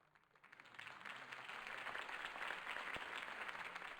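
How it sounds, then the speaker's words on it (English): Crowd applause in the Batman Gotham Knight video game, a dense swelling patter of clapping that rises from quiet to steady and fairly faint overall. "If only Mr. Wayne, my campaign's largest backer, could have heard that applause"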